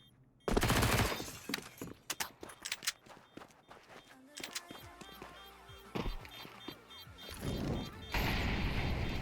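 Rapid FAMAS rifle bursts in Counter-Strike, a professional match on the Anubis map, crack out in dense volleys with scattered single shots, footsteps and impacts, loud and close, ending in sustained fire.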